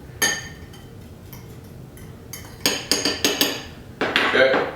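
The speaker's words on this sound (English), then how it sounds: "you're gonna get a fork and just mix them together" A fork mixing bentonite clay and baking soda in a bowl makes a brief clink, then a run of quick, close metallic taps and scrapes against the bowl, finishing in a denser scraping clatter.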